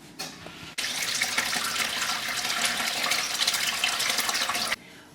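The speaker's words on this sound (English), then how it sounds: "I'm going to pour this very carefully into here and strain out the ricotta cheese" Whey and fresh homemade ricotta curds pour steadily into a cheesecloth-lined colander, a continuous close splashing rush lasting several seconds before stopping abruptly, with no talk.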